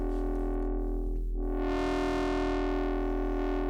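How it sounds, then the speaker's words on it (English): A sustained saw-wave FM wavetable synthesizer tone from Ableton Live drones steadily and loudly, bright and buzzy with dense harmonics, its timbre sweeping and opening up partway through, with no voices. "This is like almost like a saw wave FM type thing."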